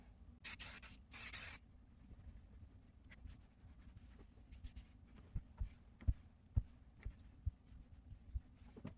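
Temporary adhesive sprayed onto quilt batting on a table: two close hissing bursts at the start, followed by quieter rubbing and pressing sounds and small taps as the batting is smoothed down.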